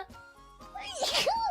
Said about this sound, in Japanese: やばい、くしゃみ出る。